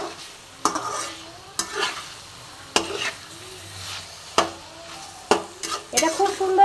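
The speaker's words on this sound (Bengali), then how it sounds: "চিকেন ডাল সবজি সব একসঙ্গে আমি আরও কষে নেবো কিছুক্ষণ, মিনিট 5 আমি কষে নেব।" Chicken, dal and vegetables fry together in a pan, a soft sizzle broken by sharp, regular clacks and scrapes of a spatula stirring, close and without speech.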